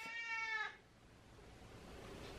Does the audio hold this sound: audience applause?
no